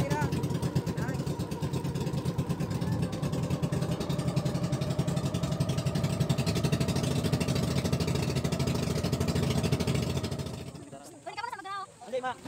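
A motorized boat engine runs loudly and steadily for about ten seconds on an early-morning ride to Balhabal near the Panumbagan Sand Bar, then abruptly cuts away.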